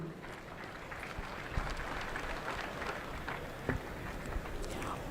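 A crowd claps for navy personnel descending into the sea at a Kenya Navy 60th anniversary event, a dense, distant wash of steady applause with a few louder claps.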